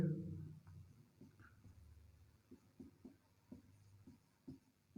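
Chalk or marker writing on a board in a classroom, heard as faint, quiet taps and short strokes in an irregular rhythm after a brief low voice at the start.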